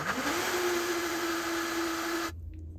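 A blender runs steadily at full speed, whirring through a plant-based kimchi base mixed with a tablespoon of kelp flakes, a loud continuous motor drone that cuts off abruptly near the end.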